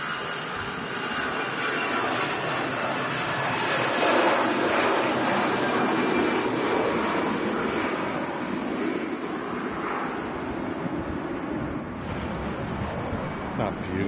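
An airliner climbs out after takeoff from Manchester Airport, its engines producing a broad, steady roar that stays loud and even for the whole stretch and rises slightly midway.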